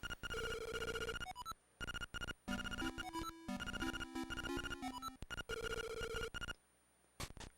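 A telephone rings in The Legend of Zelda: Link's Awakening as a loud bright chiptune trill in repeated bursts with short beeping melodic runs, ending in a few clipped blips.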